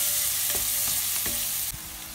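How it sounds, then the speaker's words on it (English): Garlic and onion fry steadily in a hot pan, a continuous close sizzle broken by a few soft stirring scrapes, with no talking. "I-brownies muna natin yung garlic para mabango. Yan, sunod natin yung onion."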